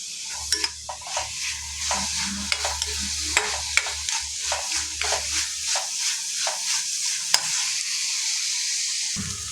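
Masala for paneer masala fries in oil in a pan and is stirred steadily, a continuous sizzle broken by repeated scraping, clinking strokes of a spoon against the pan, with a low hum underneath for much of the time.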